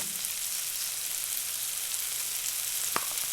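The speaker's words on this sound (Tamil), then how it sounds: "இப்போ ஒரு கொதி வந்துருச்சு" Chicken korma cooking at a boil in a pot gives a steady, close hiss and bubbling sizzle, with a single sharp clink of a utensil near the end.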